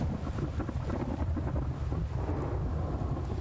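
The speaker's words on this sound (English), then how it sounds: "I know it's raining outside" Rain and rolling thunder in the survival video game The Infected form a continuous rushing wash with a deep, steady rumble underneath, and no voices over it.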